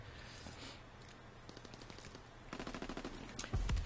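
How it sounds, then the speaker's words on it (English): Sustained automatic fire from a GPMG machine gun in the Call of Duty: WW2 multiplayer video game, a rapid rhythmic burst that grows louder and denser toward the end, with heavy close shots at the finish. "Hey, that GPMG."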